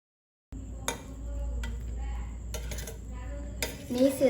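Soft scrapes and light clinks as soya biryani is gently stirred in a pot with ghee added, a few distinct spoon-on-metal knocks over a low steady background hum.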